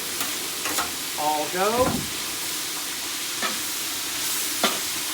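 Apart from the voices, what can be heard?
stir-frying bok choy, snap peas, red peppers, portobellos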